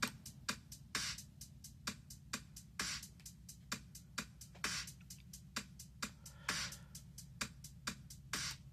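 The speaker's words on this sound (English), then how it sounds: "So this is the basic of the drum beat that I created." A steady, basic drum pattern with sharp, evenly spaced hits over a low rumbling undertone, repeating in a simple groove with no voices.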